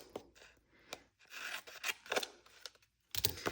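Scissors cutting through an adhesive sheet during a paper-craft card project, a series of close, crisp snips and rustles with short pauses between cuts, no talking.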